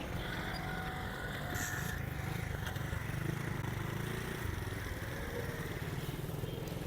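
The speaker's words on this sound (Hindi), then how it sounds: "तो अब अपनी बाइक भी हम स्टार्ट करने लगे हैं।" A motorcycle rides through Karachi along the Green Line project route, its engine a continuous rumbling drone mixed with road and wind noise, steady and fairly close with no talking.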